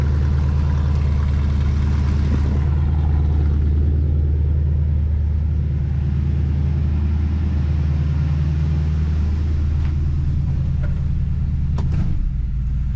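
A 1972 Ford F-100 Sport Custom pickup engine idles smoothly and steadily up close, a continuous low rumble with no voices.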